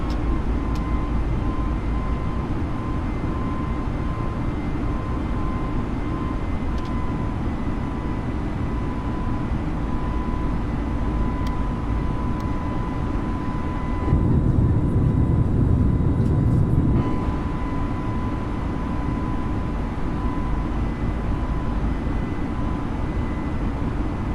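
FlyByWire A32NX airliner engines in Microsoft Flight Simulator during climb, a steady broadband jet roar with a faint high whine, continuous and unchanging for the whole stretch, with a brief louder swell midway.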